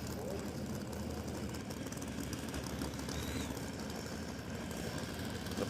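A Hemi drag car engine in a Mustang, either Pro-charged or turbocharged, idles with a steady rumbling throb at a drag strip, heard fairly near under constant background noise.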